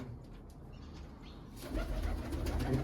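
Pigeons coo in low, rolling calls close by, quieter at first and then louder and fuller in the last half, with faint rustling around them.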